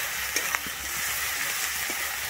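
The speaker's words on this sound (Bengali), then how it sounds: "আমি আদা রসুনটা দিয়েও কিন্তু খুব সুন্দরভাবে এখানে কষিয়ে নেব" Ginger-garlic paste frying in a pan for a Bengali bhetki fish curry with potato and cauliflower, giving a steady, even sizzle with a few soft clicks of stirring, close and alone.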